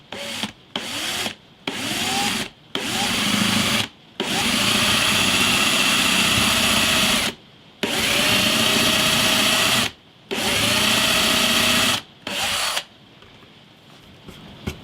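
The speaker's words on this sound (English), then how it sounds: "let's get drilling" A power drill whirs in repeated bursts of several seconds each, separated by short pauses, close up and loud, ending in near quiet, drilling holes in a vintage steel-string acoustic guitar.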